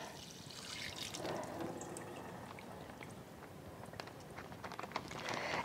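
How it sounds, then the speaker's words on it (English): Water is dumped out of a container outdoors, a faint, continuous splashing and trickling pour with scattered drips that lasts several seconds. "So I'm going to dump the water out here."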